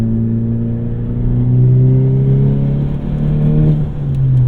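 A 2018 VW Golf GTI with a 6-speed manual accelerates hard after the throttle kick-down switch is pressed, its engine droning steadily and rising in pitch as boost builds, loud and close throughout.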